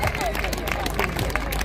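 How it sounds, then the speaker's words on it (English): A crowd at an Extinction Rebellion rally in London cheers and claps in a lively, continuous babble of voices, with scattered claps and shouts mixed through it. "I'm glad you're cheering."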